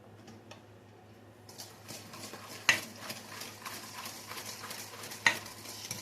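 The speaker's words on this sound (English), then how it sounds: "We're going to whisk each ingredient one at a time." A whisk beats eggs, vanilla and sugar into brownie batter in a bowl, a soft rhythmic swishing broken by two sharp clinks of metal on the rim, close and fairly quiet.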